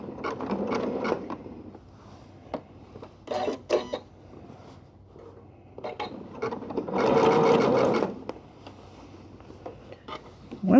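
Sewing machine zigzag stitching a tote bag made of quilted squares, running in short bursts of rapid mechanical chatter with a longer steady run near the end, with a brief voice in between.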